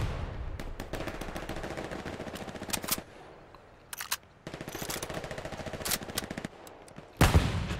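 Gunfire in the Battlefield 4 video game, rapid bursts of automatic fire close and loud, broken by short pauses, ending with a heavier blast, no talk.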